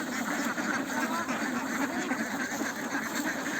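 Ducks on a farm quack repeatedly around feeding time, a busy overlapping chorus of nasal calls that carries on throughout, mixed with faint background noise.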